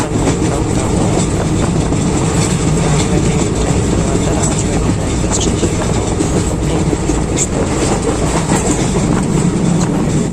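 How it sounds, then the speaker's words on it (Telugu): Train at Rajahmundry railway station, a loud, close, continuous rumble of rolling cars with clickety-clack wheel rhythm and occasional faint squeals throughout. "ఇదిగోండి రాజమండ్రి రైల్వే స్టేషన్"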